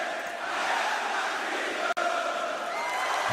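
Crowd at a live wrestling event singing together in a sustained, dense roar of many voices, steady and fairly loud throughout with one brief dropout near the middle.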